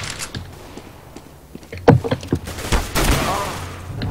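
Gunfire in the video game CS:GO, a few sharp shots around the middle followed by a denser burst of game noise, heard under players talking.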